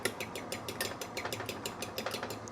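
Egg being whisked briskly in a bowl for lap cheong fried rice, a steady rhythm of quick, close clicking strokes repeating with no talk.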